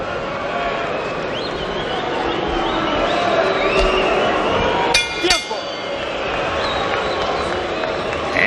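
A boxing arena crowd at Orlando Salido versus Juan Manuel Marquez murmurs and stirs restlessly throughout, with a brief sharp clinking burst midway.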